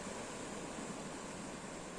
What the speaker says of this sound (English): yeah, those waves, man, amazing.